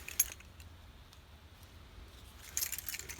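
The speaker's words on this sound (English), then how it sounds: "A full set of master keys with the remote" A full set of master keys with alarm remote fobs for a Hymer 584 A Class motorhome jangles faintly in two brief metallic bursts, one near the start and another toward the end, over a quiet background.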